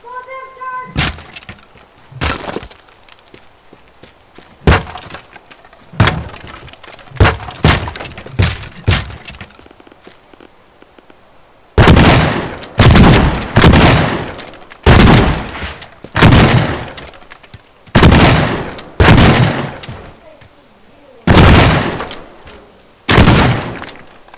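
Repeated explosions and crashing debris in the destruction game Teardown, loud sharp blasts in irregular bursts, denser and heavier in the second half, with smashing glass-like cracks between them.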